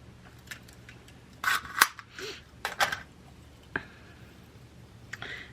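Scissors snip through beading wire in a few close, crisp clicks, two snips in quick succession followed by fainter ticks, in a quiet room.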